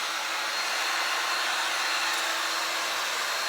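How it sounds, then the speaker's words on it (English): Two hair dryers blow together at once, a steady, loud, close whoosh of air that holds unchanged with no pauses. "you got 2 dryers, use them both"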